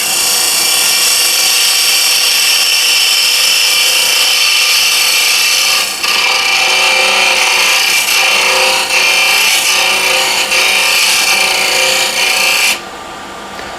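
A square-end scraper with a pulled burr cuts steadily across punky hornbeam on a lathe, a loud, continuous rough rasping hiss with slight changes in pitch, then dropping off abruptly near the end.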